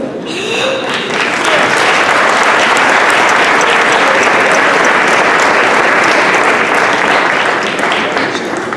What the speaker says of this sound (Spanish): así que un aplauso gigante, por favor